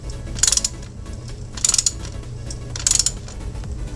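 A ratchet tightens the rear axle castle nut on a Suzuki SV650 motorcycle in three short bursts of rapid metallic clicking, close and evenly spaced, over a low background hum.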